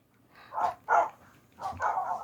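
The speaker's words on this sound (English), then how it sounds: "you guys have been hearing barking sounds the entire video" Tamed dogs in Minecraft give three quick, fairly loud barks in a loose rhythm, with nobody talking.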